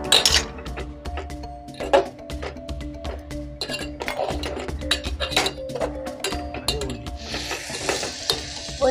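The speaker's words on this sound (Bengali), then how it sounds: "এবার আমি ভালো করে নাড়াচাড়া করে নেব।" Miniature vegetable khichuri with ginger paste being stirred in a tiny pot, with repeated clinks and scrapes of a small utensil over a steady background sizzle, close and fairly loud, no talk.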